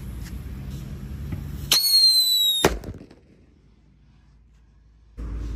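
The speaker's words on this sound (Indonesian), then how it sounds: "Lanjut kita nyalakan King Thunder guys. Sudah menyala." King Thunder firecracker exploding during Ramadan, a sharp shrill squeal followed by a loud burst about a second later, then near silence before background noise returns.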